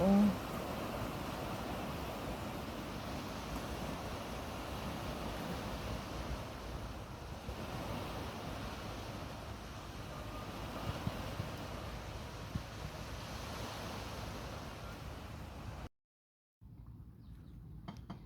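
Ocean waves at high tide surge and wash continuously onto the shore, a loud, steady roar of surf mixed with wind buffeting the microphone, ending in a sudden brief cutout.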